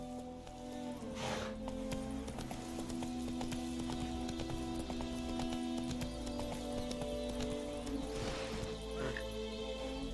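Horse hooves clip-clopping at a steady galloping rhythm in The Witcher 3: Wild Hunt, close and continuous under in-game music and ambience.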